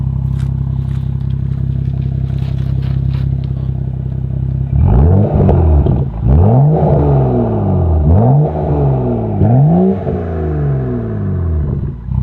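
BMW M235i with muffler delete cruising in eco mode: a steady low engine drone, then a series of rising rev sweeps through successive gearshifts, close and loud with no talking.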